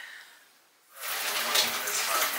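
Shower water running hard in a home bathroom, starting abruptly after a near-quiet moment and then hissing on as a loud, steady spray.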